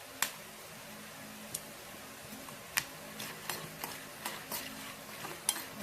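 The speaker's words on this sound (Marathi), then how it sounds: "हे बघा इथे एक एक ना आपलं पॉप पण व्हायला सुरू झालं आहे" Popcorn kernels begin popping one by one in a covered pan, sparse sharp clicks at irregular intervals over a faint sizzle, with no talk.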